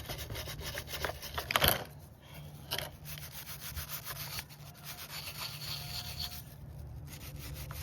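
A small brush scrubs flaking old paint off a 1970s Homelite chainsaw, giving a steady close-up rubbing and scraping texture with a few sharper strokes, no talking.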